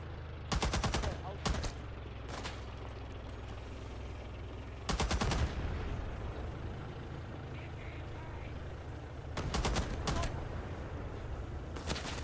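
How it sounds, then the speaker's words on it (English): A DP-28 light machine gun fires in the Rising Storm 2: Talvisota Winter War game, in three short loud bursts of rapid shots spaced several seconds apart over a steady low rumble, with a voice in the gaps. "The machine gun, the DP is so loud. It's such a distinct noise."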